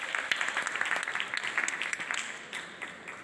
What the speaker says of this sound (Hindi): भरपूर तालियां होनी चाहिए इन दोनों बच्चों के लिए